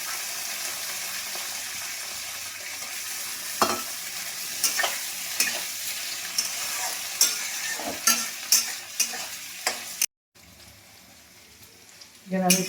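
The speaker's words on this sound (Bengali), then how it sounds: "পেঁয়াজটা ভাজা হোক।" Onions sizzle and fry in a pan while being stirred, with a steady hiss broken by repeated scraping knocks of the utensil and a brief gap near the end.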